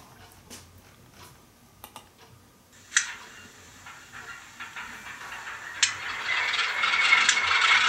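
A UP9067 model locomotive with its shell on starts with scattered light clicks and rattles, then builds into a rising mechanical whir and hiss with a couple of sharp clacks, growing louder toward the end.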